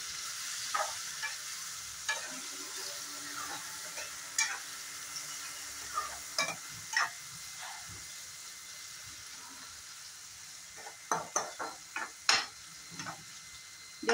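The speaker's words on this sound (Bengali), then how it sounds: "এখন 2-3 মিনিট ভালো করে ফ্রাই করে নেব।" Spices, onion and tomato frying with a pinch of salt in a pot for rajma, giving a soft steady sizzle broken by sharp scraping stir strokes that cluster quickly near the end.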